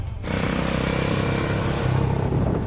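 A Benelli Imperiale 400 motorcycle engine drones steadily while being ridden, loud and close for the whole stretch with no pauses and no voices.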